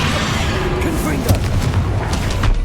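A Confringo spell blast in Hogwarts Legacy, the video game, lands as a short rumbling boom over a busy, noisy combat backdrop, with a few low thuds following close behind.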